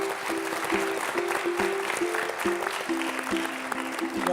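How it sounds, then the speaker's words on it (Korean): Studio audience applause welcoming the Hwacheon county governor onto a televised education-autonomy forum; steady, fairly loud clapping throughout, with a repeating musical tone pattern underneath. "최문순 화천 군수님을 박수로 맞아서 이야기를 좀 듣겠습니다."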